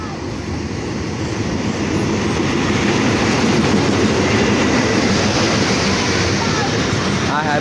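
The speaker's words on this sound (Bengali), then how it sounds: "ট্রেন চলে এসেছে।" A passenger train pulls into a station on a journey to Bhanga, rumbling and clattering loudly and close as it rolls in. Waiting passengers stand nearby.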